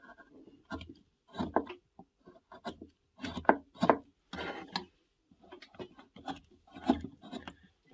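Knife carving away excess wood around the back of a wooden hand puppet's head, close scraping and chipping strokes in irregular bursts separated by short pauses.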